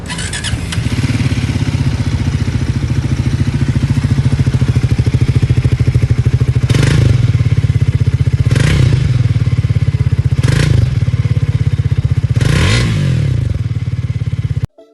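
A Triumph Thruxton 400 motorcycle engine starts and settles into a loud, close, steady idle, broken by four quick throttle blips that rise and fall before it cuts off.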